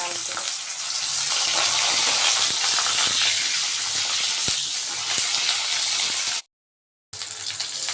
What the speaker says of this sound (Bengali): এখন তেলটা বেশ গরম হয়ে গেছে এখন আমি ফুলকপিগুলো একটু ভেজে নেবো